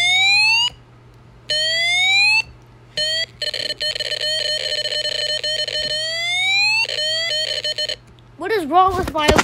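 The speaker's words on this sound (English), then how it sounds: "Wrong with my alarm? It sounds broken." A synthetic electronic alarm in a Roblox game blares in repeated rising sweeps and steady tones, broken by short gaps, loud and close, ending in warbling glitchy chirps.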